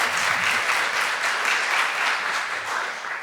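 A seminar audience on corporate governance gives a welcoming round of applause for an accounting firm's audit leader, loud, close, continuous clapping from a crowd that fades a little near the end.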